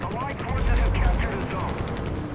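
A rapid, evenly spaced burst of autocannon fire from a Chi-Ha tank in War Thunder rattles out as more than a dozen close, loud shots over a low rumble.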